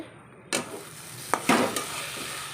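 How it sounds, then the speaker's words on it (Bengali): Chopped potatoes sautéing in a pan, a broad hiss of frying that starts abruptly partway in, with a few short scraping stirs and clinks of a utensil against the pan, close and fairly loud, with no talk. "ভালো করে কষাচ্ছি আলু দিয়ে কুচি কুচি করে আলু দেওয়া হয়েছে"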